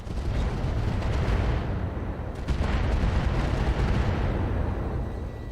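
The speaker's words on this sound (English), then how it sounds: "but I think we do fire the MRMs" MRM missile volleys launch in a RogueTech mech battle, rolling out as a loud, dense barrage of booms that fills the clip with one fresh surge midway.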